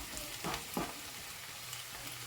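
Masala with ginger and garlic fries for an okra curry, a steady close sizzle with a couple of brief stirring scrapes in the first second, no voices.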